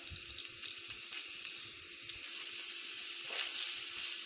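Butter melting in a pan for a sauce, with a steady sizzling, watery hiss throughout and a few small clicks, close and fairly quiet with no talking.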